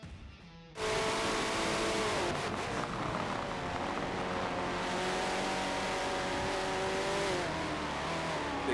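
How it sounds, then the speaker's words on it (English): An Audi race car in a GT endurance race on Suzuka in a racing video game, its engine droning at sustained high revs with rising and shifting gear tones, loud and continuous after a brief quieter start. "Big Ben, if it looks like an Audi, drives like an Audi, and sounds like an Audi"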